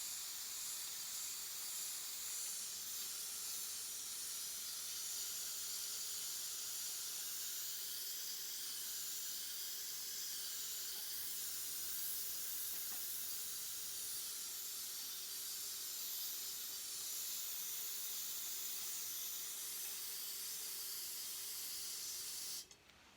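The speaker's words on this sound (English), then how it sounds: "Once you get started with the airbrush, it is hard to stop." An airbrush sprays paint onto a woodcarving sign, a steady, faint, high hiss that continues unbroken for over twenty seconds and cuts off at the very end.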